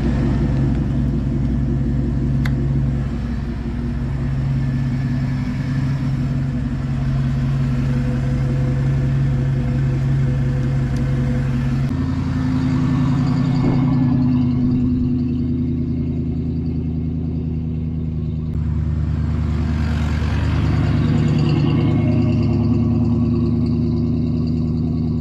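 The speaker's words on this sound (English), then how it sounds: "my tires are loud and you can't hear anything except tires and exhaust" A lifted truck on BDS suspension drives along a beach, its loud tires and exhaust forming a steady, close rumble throughout with shifts in engine pitch and no talking.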